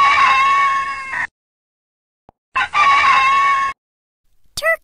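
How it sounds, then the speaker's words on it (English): A rooster crows twice, each loud call stretched over about a second, separated by silence, with a brief clucking sound at the end. "Rooster."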